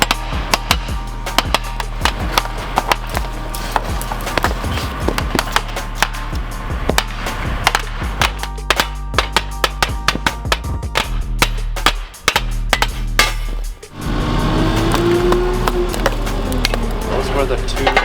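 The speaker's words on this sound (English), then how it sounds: "These guys have their hammers out, so I'm assuming it's hammer time." Workers hammer handmade magnesium wheel sand molds, a dense run of sharp, irregular knocks and taps, close and loud, with a person talking over parts of it.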